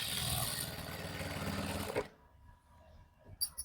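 A sewing machine stitches the lining into a salwar, a close, rapid mechanical whir running steadily for about two seconds, then stopping, followed by faint handling noises and a few small clicks.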